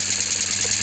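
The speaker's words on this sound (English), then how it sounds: "It's a lovely little pump." A Hailea silent air pump, 2.1 litre output at 4 pounds and used to supply small steam engines, runs with a steady, even hum and airy hiss throughout, close and continuous with no talk.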